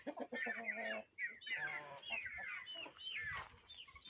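Several chickens cluck and chatter in irregular bursts, fairly close, with short gaps between calls and no talking.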